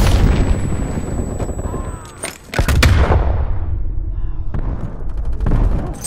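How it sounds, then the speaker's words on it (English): A grenade blast in Call of Duty Black Ops Cold War gameplay: a loud, broad boom and rumble shortly past mid-clip. It sits among continuous dense gunfire and battle noise, with a long decaying roar afterward. "Throwing grenade!"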